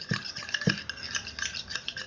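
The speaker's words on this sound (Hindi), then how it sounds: "देखो मिक्स कर रहा हूँ मैं" Sticky stirring and scraping of a glue mixture in a container, with a few sharper taps of the stirrer against the sides, close up and brief, with no talking.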